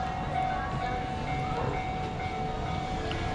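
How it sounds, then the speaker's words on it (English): A train pulls into a station in Japan, a steady low rumble of wheels and rail noise with a faint tonal whine, heard continuously and moderately close. "Oh, the train's coming."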